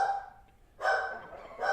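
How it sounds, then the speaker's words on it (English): A dog named Zelda barks downstairs, three short muffled barks in a quick broken sequence, moderately faint and heard through the house. "that's Zelda barking downstairs"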